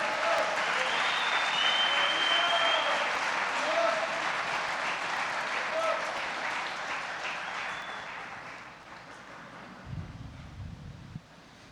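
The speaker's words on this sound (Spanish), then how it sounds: "dele un fuerte aplauso al Rey de la Gloria" Church congregation giving a loud round of applause, a broad sustained wash of clapping that slowly fades, with a few voices calling out over it and a low rumble near the end.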